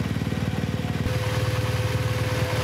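The engine of a self-riding BMW R1200GS motorcycle runs close up with a rapid, even pulsing chug that smooths into a steadier drone partway through, with no voices.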